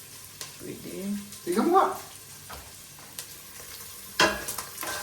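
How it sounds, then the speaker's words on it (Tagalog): Chicken sizzles while being sautéed in a pan, with a soft continuous frying hiss, occasional louder scrapes and stirring clatter, and a couple of people talking quietly over it. "ginisa-gisa ni Jeb yung manok"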